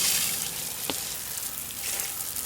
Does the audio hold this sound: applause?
no